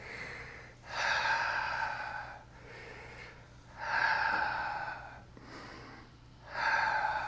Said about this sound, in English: And then breathe, just a normal breath.